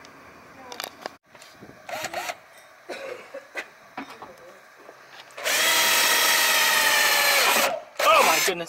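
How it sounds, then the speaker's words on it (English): A power drill whirs loudly for a couple of seconds, drilling holes in a Nissan D21 Hardbody fender, bracketed by excited talking and coughs before and after. "We're about to drill holes."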